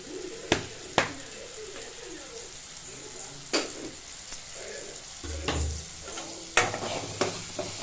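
Potatoes frying in oil with masala powder, a low steady sizzle under a few sharp clicks and scrapes of a spoon against the pan, with a brief low rumble near the end.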